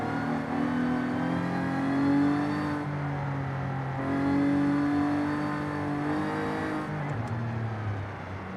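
In the racing game Forza Horizon 5, a car engine revs up and eases off repeatedly with shifting pitch, a loud continuous drone ending in a sharp drop near the end, no talking.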